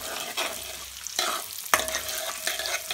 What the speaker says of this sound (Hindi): प्याजां नूं भी आपां हल्का फ्राई कर लेंगे